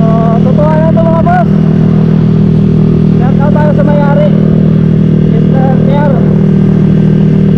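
An idling XRM 4-valve motorcycle engine holds a steady, loud mechanical hum throughout, while someone talks over it the whole time.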